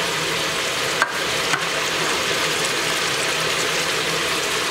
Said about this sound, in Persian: این را خوب سرخ میکنیم